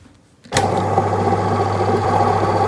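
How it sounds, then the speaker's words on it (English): A Kanga opal cutting wheel machine starts cutting opal rock with a sudden onset, then holds a steady, loud mechanical whir and grinding hum, close by with no talk. "we're now going to cut on the wheel"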